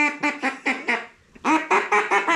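A handheld duck call blown outdoors imitates quacking: a run of five loud, evenly spaced quacks, a short pause, then another quick series of six.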